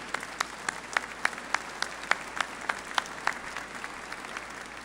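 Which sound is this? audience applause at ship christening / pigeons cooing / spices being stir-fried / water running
audience applause at ship christening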